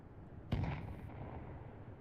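A single grenade detonation booms in a Counter-Strike 2 match, one sharp deep blast rising from a quiet background and then fading fast.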